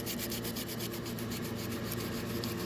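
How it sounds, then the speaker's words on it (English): Steady, rhythmic rasping of sandpaper rubbed back and forth by hand over a rounded transmission fluid cooler cowl, quick even strokes, close and fairly quiet. "I want to sand in multiple directions"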